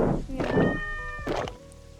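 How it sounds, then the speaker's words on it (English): Cats meow in a short burst of two or three cries, close and fairly loud, with a soft thunk partway through, heard while a mukbang-style food video game plays. "Cats? I keep hearing cats. There's cats."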